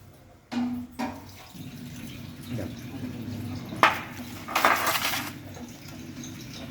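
Water splashes and clatters in a tray while chicken droppings are rinsed out during a poultry post-mortem. The sound comes in several short bursts over a low background hum.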